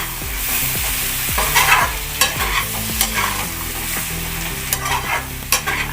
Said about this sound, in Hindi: एबे मु आलू मटर जो सिझेई की रखी थी ताको देबी।